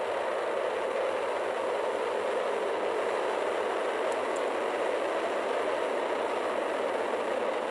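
Falcon Heavy rocket launching with all 27 Merlin engines firing, a steady, dense, unbroken roar holding at the same level from start to finish with no voices.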